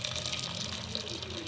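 Water being poured off cooked lentils, a steady continuous gush of liquid running close by for the whole moment.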